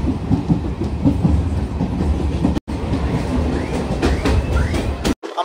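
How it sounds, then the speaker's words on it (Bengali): A Bongaon–Ranaghat local train rolls along the tracks with a loud, close, continuous rumble and rhythmic clatter of wheels, with brief squeals and a couple of sudden cutouts. "আমাদের ট্রেন এখন এসে পৌঁছালো মাঝের গ্রাম স্টেশন"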